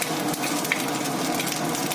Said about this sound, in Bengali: তেলটা গরম হয়ে গেছে, দিয়ে দিচ্ছি শুকনো লঙ্কা, আর দিয়ে দিচ্ছি ওই যে 5 ফোড়ন।